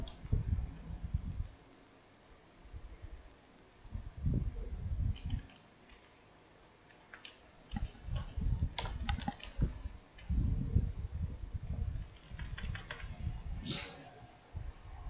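Fingers type on a computer keyboard in bursts of quick, light key clicks, with a low voice murmuring in between.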